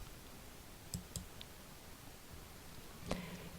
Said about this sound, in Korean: 상단에 인증번호가 발송되었습니다 라는 메시지에 확인 버튼을 클릭합니다.